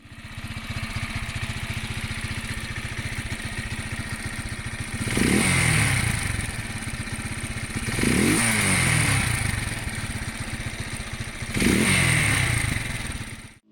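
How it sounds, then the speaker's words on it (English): A Janus motorcycle engine runs through a handmade exhaust, a steady low thumping idle broken by three short revs that rise and fall, close and loud with no talk. "It's not that the exhaust tone is bad, nor am I looking for it to sound like a straight pipe."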